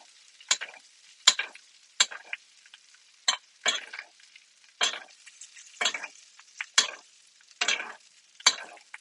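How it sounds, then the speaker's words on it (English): Steak butter-basting in a hot pan, close repeated spoon scrapes and bursts of sizzle arriving every second or so over a quiet background. "But as soon as the butter is melted, move it around the pan. That's when we butter bathe."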